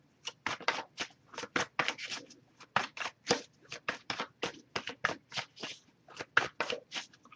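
Rapid riffle shuffling of tarot cards, a dense run of crisp papery flicks in quick bursts, close up with no talking.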